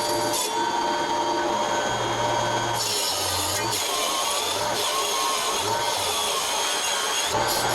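A mini table saw cutting through a thick board, its high motor whine broken by several rasping cutting passes with brief pauses between them, close and loud.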